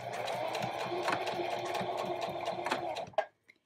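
A sewing machine back stitches while sewing a zipper into a pillow, running in a fast, steady close whir of needle strokes for about three seconds, then stopping abruptly with a couple of small clicks.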